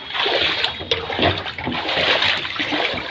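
Someone wading through dirty flood water around a house during a flood, giving loud continuous sloshing and splashing close by.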